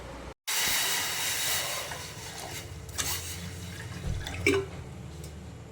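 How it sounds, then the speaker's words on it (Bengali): A pot of water for tea heating on a home stove gives off a steady, soft hiss, broken by a few faint clinks and bubbling ticks. "এখানে একটু চায়ের জল বসালাম"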